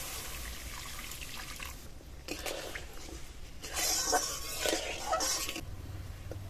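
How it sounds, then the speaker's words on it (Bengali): Water is poured into a frying spice masala that has cooked until the oil separates, giving two bursts of hissing, bubbling sizzle and splashing over a low background hum. "এবার এর মধ্যে জল দিয়ে দেবো।"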